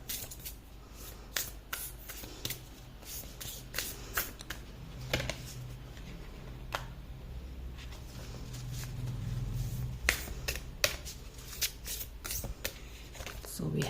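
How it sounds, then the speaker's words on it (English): Oracle cards being pulled and shuffled by hand, with soft papery riffles and sharp flicks recurring irregularly, close and quiet, while a person talks over them. "Let me go on and pull all the cards in here."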